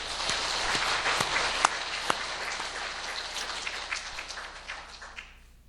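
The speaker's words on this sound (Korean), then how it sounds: "뜨겁게 우리 감사의 박수, 격려의 박수 한번 드리겠습니다." Church congregation applauding during a Korean service, a steady dense patter of many hands that holds level for several seconds and then thins and fades out at the end, with no talking.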